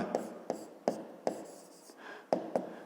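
Pen writing on paper during a fifth-grade geometry exercise: a run of close, crisp strokes and taps in quick irregular rhythm, with a short scratchy scribble between them and no speech.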